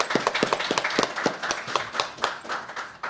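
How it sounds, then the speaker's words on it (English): Scattered clapping from a small audience at a community meeting, individual hand claps clearly separated in a loose, uneven rhythm rather than a full roar, moderately close and without talk. "If we can just give them a round of applause for all the work that they have been doing"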